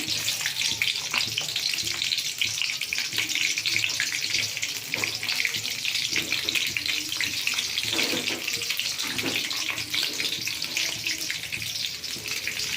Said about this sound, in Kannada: ಪುದೀನ ಕರಿಬೇವು ಹಾಕ್ಕೊಂಡಿದ್ದೀನಿ ಈಗ ಚೆಂದಾಗಿ ಎಣ್ಣೆನಲ್ಲಿ ಫ್ರೈ ಆಗಲಿ